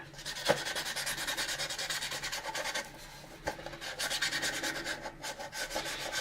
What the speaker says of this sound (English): You see that my sanding is kind of getting rid of some of the yellowing that this plastic did on the top